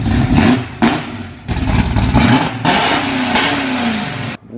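A 1972 Gran Torino engine, just restarted after 17 years, revs hard and loud, rising and falling in pitch across several bursts, with brief drops between pulls.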